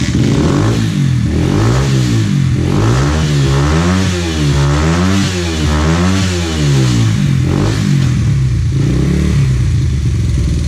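A vintage Honda XR80R motorcycle with a new FMF exhaust revving close by, its engine pitch rising and falling in repeated loud throttle blips over a rough, clattery idle.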